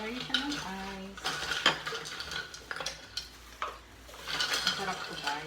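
Ice goes into a glass of homemade milk tea with bright clinks and clatters, like cubes knocking against glass and a utensil, close and busy throughout. A voice speaks briefly at the start.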